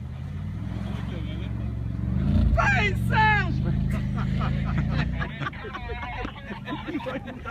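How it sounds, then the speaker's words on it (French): Renault RS car on a winter race track, engine roaring and rising in a nearby pass then fading, with people talking and shouting over it. "c'est le bruit du moteur de la RS"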